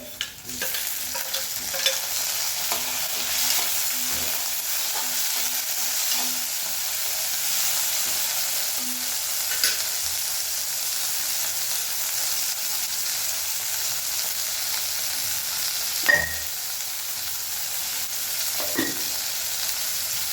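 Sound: sautéing tomatoes for poori masala in a pan

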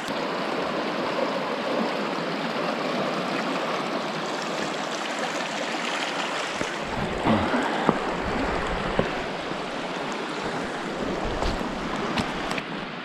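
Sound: flowing creek in the wilderness

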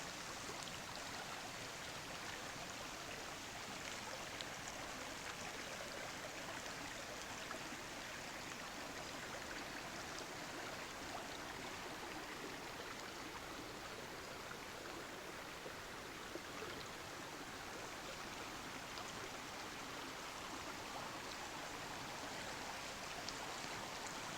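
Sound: flowing forest river

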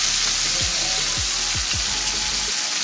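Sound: deep-frying chicken tikka masala pieces in oil

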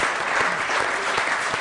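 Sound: audience applause

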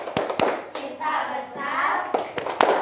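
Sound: children doing a rhythmic clapping game

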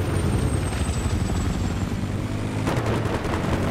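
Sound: helicopter in video game Battlefield 3

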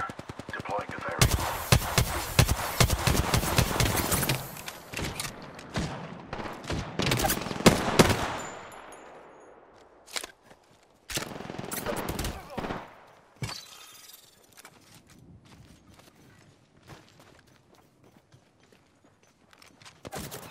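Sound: gunfire in Apex Legends video game

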